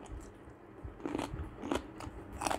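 Crunchy bites of fresh pineapple, several close crisp crunches and chewing snaps in quick succession, quiet with no talk.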